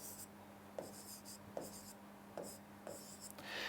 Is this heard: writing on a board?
yes